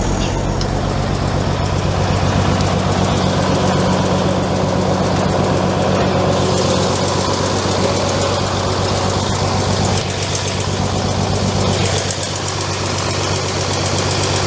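A 1960s Scania truck diesel engine idles steadily and loudly close by, with a low, even knocking rumble that continues throughout.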